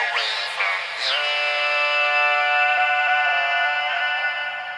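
Doubled auto-tuned vocal lines with a pitched-up layer from a sampler, sung as a sustained melodic phrase in a dark melody loop, bright and upfront.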